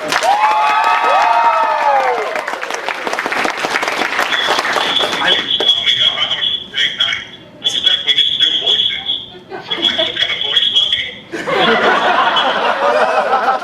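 A convention Q&A panel audience breaks into sustained, loud applause with cheers, whoops and bursts of laughter filling the room, and voices rise over the clapping now and then.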